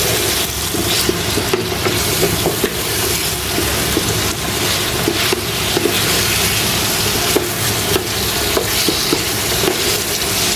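Baim eel fish curry being stirred in a pan, a steady loud scraping and bubbling sizzle that runs continuously without a break.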